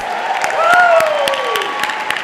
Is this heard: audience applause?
yes